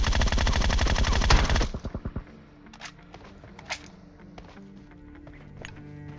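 Automatic gunfire from PUBG Mobile, a loud sustained burst for almost two seconds, then a few separate shots and scattered sharp impacts and distant cracks.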